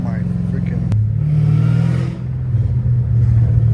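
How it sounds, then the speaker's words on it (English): A straight-piped Dodge Hellcat Redeye engine drones loud and close with a deep, rumbling exhaust tone that swells and shifts as the throttle changes, a sharp crackle marking one moment, while someone talks over it. "this car is just way too freaking loud"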